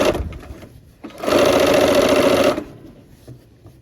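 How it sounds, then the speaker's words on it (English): A sewing machine runs in one steady, loud burst of about a second and a half, stitching quilt rows together with sashing strips; softer handling noises sit before and after. "let's sew this row together, or these two rows together with their sashing strips"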